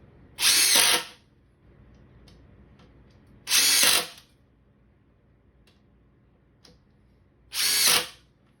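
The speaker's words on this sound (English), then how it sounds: "So we're going to start first by driving down these screws." A Ridgid brushless 4-mode impact driver on speed 3 driving screws, heard as three loud, close bursts of rapid hammering, each about half a second long, separated by quiet pauses.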